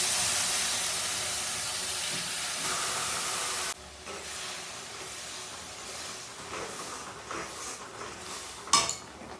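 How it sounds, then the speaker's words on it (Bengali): Water poured into a hot pan of semolina poha, a bright hissing rush of steam that cuts off abruptly, followed by quieter scraping and clinking of a spoon stirring against the pan, with one sharper clatter near the end. "অল্প অল্প করে জল মেশাবো।"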